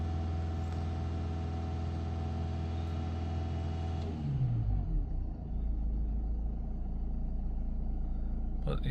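A diesel car engine idling with a steady low rumble throughout, briefly dipping and shifting in tone midway before settling back into an even idle, heard close with no talk.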